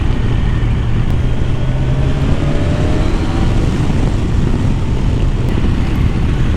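A Kawasaki Ninja 1000SX superbike out on an early-morning ride, its engine drone blended into a steady, dense roar of wind and road noise that holds constant throughout.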